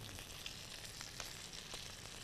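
Chicken thigh meat frying in a pan gives a steady, close sizzle that runs evenly throughout with small crackles and no voices.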